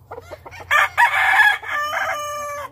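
A roundhead brood cock, a tall game rooster, crows loudly and close by in one strained, drawn-out call, preceded by a few soft clucks, with a low rumble underneath.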